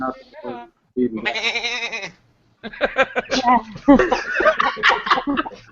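A goat bleat sound effect plays during a live show, a wavering, quivering cry lasting about a second, followed by people talking and laughing.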